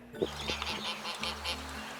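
A goose honks repeatedly in an outdoor roadside setting, its rough calls rising in short bursts over steady low background noise, fairly close and moderately loud.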